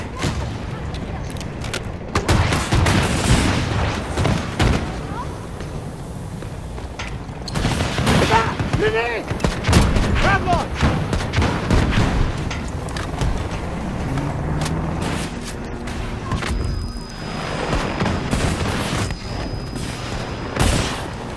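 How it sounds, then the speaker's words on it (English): Grenade launcher, rocket cannon and hand grenade blasts in the shooter game Battlefield 2042 crash in rapid, overlapping bursts with gunfire, loud and dense throughout, while a player talks between the explosions. "I'm using my grenade launchers, my rocket cannon, I'm using my regular grenades."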